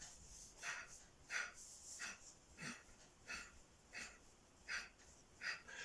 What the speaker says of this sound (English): It's a bellows breath.